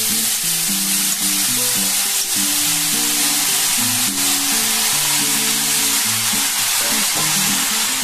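Ridge gourd and potato pieces frying in a kadai give a steady, dense sizzle throughout, with a soft melodic tune playing underneath and no talking.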